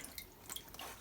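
Juice dripping through a strainer as sharon fruit is squeezed, a few faint irregular drips against a quiet background.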